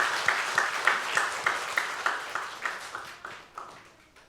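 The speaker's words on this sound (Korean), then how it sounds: "우리 시온 찬양대 박수 한번 보내주시기 바랍니다." A church congregation applauds the Zion choir, a burst of clapping with distinct rhythmic hand claps that gradually thins and fades over a few seconds, no speech over it.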